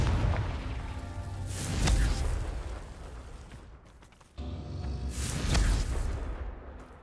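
A Confringo blasting spell from the video game Hogwarts Legacy detonates in two booming explosive bursts with rumbling tails, moderately loud and separated by a short lull.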